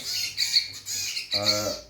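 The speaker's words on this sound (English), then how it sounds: "baby Zebra Finch that was abandoned by her parents, and a Yellow Vented Bulbul, which is also abandoned" An abandoned baby zebra finch and a yellow-vented bulbul calling up close, harsh repeated squawking begging calls in two or three bursts with short gaps between.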